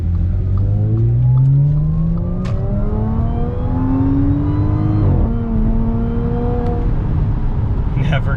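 A car accelerates hard on a back road, engine pitch climbing steadily through a gear, dropping at a shift, then rising again, loud and close throughout.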